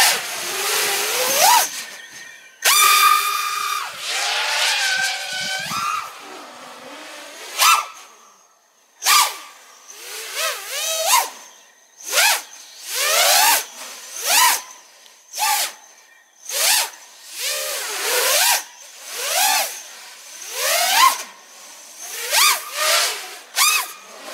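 Racing drone propellers, Gemfan 5149.9 Hurricane props, scream in repeated high-pitched bursts, surging and dropping again and again as the throttle is punched, loud and fairly close.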